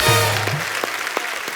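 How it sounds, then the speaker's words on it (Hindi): A TV comedy show audience breaks into brief applause, a bright wash of clapping under a low tonal hum with a few sharper claps standing out. "प्रियंका के लिए जोरदार तालियां"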